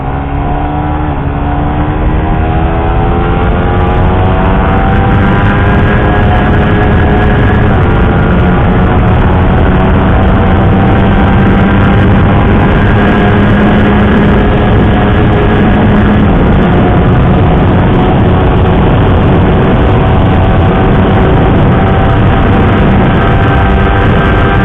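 A Suzuki GSX R150 motorcycle engine screams at high revs while riding toward top speed, a loud, continuous whine with rising and shifting pitch through the gears, close and uninterrupted for the whole stretch.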